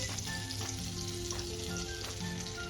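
Butter and oil heating in a pan for white sauce pasta give off a busy, fairly quiet crackling sizzle, close and continuous with no voices.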